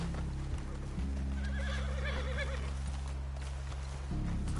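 In a video game, a horse whinnies in a clear rising-and-falling neigh over soft hoof steps, heard fairly close at modest level with a low rumble beneath.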